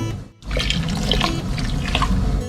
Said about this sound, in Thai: แล้วเราก็มาเติมเป็นน้ำส้ม